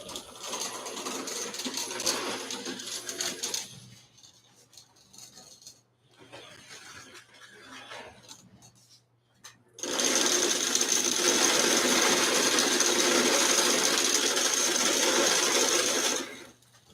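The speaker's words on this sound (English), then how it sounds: "This motor has a lot of torque." A geared electric motor with its armature just cleaned whirs loudly at close range in short runs, first for a few seconds, then more faintly in a weak middle burst, then a long steady loud run before cutting off.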